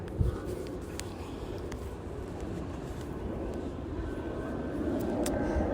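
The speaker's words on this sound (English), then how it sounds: "Now there's a plane overhead" A plane passes overhead during an outdoor walk, slowly climbing, heard as a steady, moderately loud low engine rumble and roar that swells slightly toward the end.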